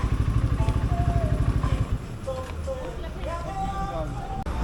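A Kove 450 Rally motorcycle thumps with a steady pulsing engine beat near the start, then rides on with a smoother running drone while a voice talks over it.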